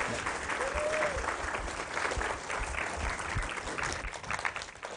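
A round of applause from a seated audience greets Dr. Tommy Mitchell at a creationist talk: continuous, even clapping holds for the full five seconds, moderately loud and steady with no voices over it.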